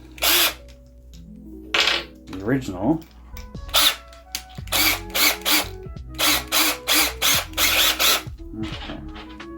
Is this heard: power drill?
yes